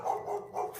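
A person imitates a dog barking with a few short, voiced woofs in quick succession, close and fairly loud.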